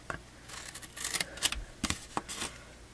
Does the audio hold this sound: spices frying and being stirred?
no